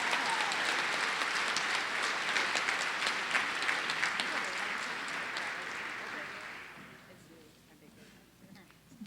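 Sustained applause from an audience fills a hall after a live song at a nursing pinning ceremony. The clapping stays dense and even for several seconds, then thins and fades toward quiet.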